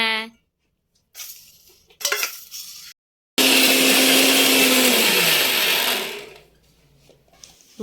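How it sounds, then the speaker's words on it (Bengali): An electric grinder whirs loudly and steadily for about three seconds as it powders ingredients for homemade baby cereal, then winds down, with brief clinks and handling noises around it. "অর্ধেকটা গুঁড়ো করা হয়ে গেছে আর বাকি অর্ধেকটা এবার গুঁড়ো করে নিচ্ছি"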